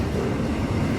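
A freight train rolls past on the Canadian Pacific line, a continuous rumble of rail cars and wheel noise at moderate distance, with no voices.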